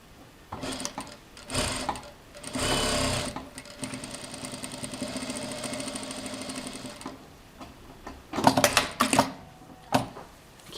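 A sewing machine stitches pajama fabric in several bursts of rapid, close mechanical whirring, broken by short pauses, then a few quick stop-start runs near the end, with no talk.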